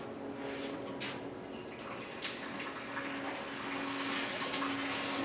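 Water from boiled broccoli being poured off in a home kitchen, a soft steady splashing stream running throughout with a faint hum beneath and a small clink partway.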